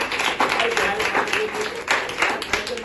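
Clapping from an audience at a Good Friday night prayer quiz gathering, a steady dense wash of many hands at moderate loudness throughout, with a few voices mixed in.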